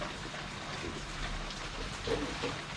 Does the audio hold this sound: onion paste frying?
no